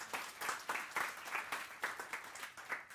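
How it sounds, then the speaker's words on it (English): A conference audience applauds the speakers at a fireside chat. The clapping is soft and distant, with a fairly steady wash of many hands and some individual claps standing out, and no voices over it. "so round of applause for everybody who's spoken already"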